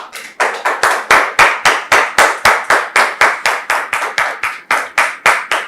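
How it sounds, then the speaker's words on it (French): A church congregation claps in a fast, steady, unison rhythm to welcome a pastor, loud and close, about twenty crisp claps with no talking over them. "Nous recevons le pasteur sous vos applaudissements"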